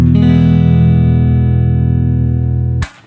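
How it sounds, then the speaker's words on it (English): A guitar chord strummed once after tuning, ringing loud and sustained for nearly three seconds before being abruptly muted. "I always test my tuning by playing a chord and just making sure it sounds nice"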